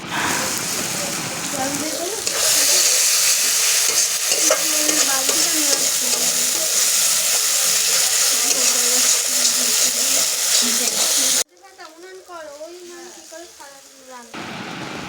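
Onions frying in hot oil for chicken biryani, with a loud continuous sizzle under ongoing stirring, close by; partway through the sizzle cuts off and a voice talks over softer frying.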